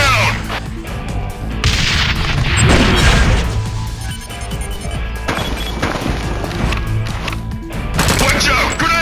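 A grenade goes off in the Ghost Recon game for Wii amid loud crashes, booms and bursts of gunfire, with shouted voices over the chaotic combat.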